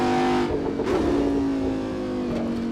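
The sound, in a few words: Audi R8 V10 engine revving in Assetto Corsa video game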